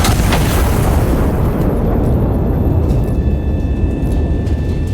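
An artillery gun in the game Iron Nest fires with a heavy, loud boom at the start, followed by a long rumbling roar that slowly fades.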